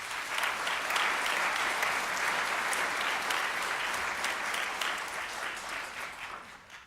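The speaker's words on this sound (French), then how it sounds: "Merci à eux et vous pouvez les applaudir." Sustained applause from a crowd, loud and even throughout before tapering slightly at the end.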